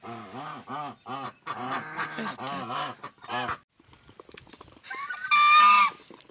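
Domestic ducks at a farmyard give loud honking quacks in rapid bursts, close and clear, with a brief pause and a final harsher call near the end.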